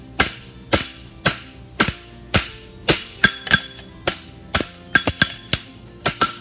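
A hammer rings sharply on a steel horseshoe against an anvil while forging a heel caulk, a steady series of loud metallic strikes with occasional quick doubled blows and ringing decay.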